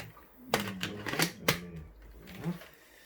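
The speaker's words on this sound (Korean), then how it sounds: "배터리 요거 빼서 위로 당기고" A battery is pulled out of a Samsung Jet cordless vacuum, giving a few quick plastic clicks and snaps close by, with faint voices in the background.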